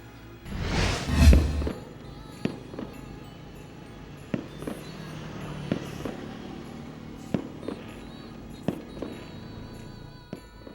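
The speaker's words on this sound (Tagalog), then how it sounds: "Nindot nga mga fireworks nga nagpahayag sa kalangitan" A loud whooshing launch and boom, followed by a series of sharp firework cracks and pops spread out over the following seconds, heard from a distance on Christmas Day.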